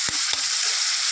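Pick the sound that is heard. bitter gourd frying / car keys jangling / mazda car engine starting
bitter gourd frying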